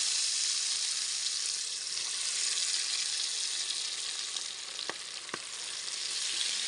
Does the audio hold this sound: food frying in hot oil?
yes